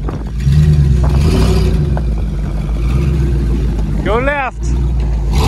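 A 2020 Ford F150 engine roars and revs in a loud, continuous drone during an ATV-versus-truck pull, under shouted voices, with a brief rising squeal of strain near the end.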